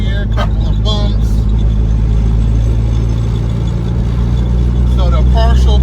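A 1990 Eclipse GSX driving slowly over a couple of bumps, its engine a loud steady droning hum inside the car, with someone talking over it at the start and end.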